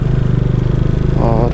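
A motorcycle engine idles close by with a steady, low, pulsing throb. A brief voice rises over it near the end.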